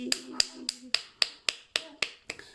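A church congregation claps in a steady beat during morning prayer, about nine sharp, evenly spaced claps in roughly two and a half seconds, with a low voice briefly underneath at the start.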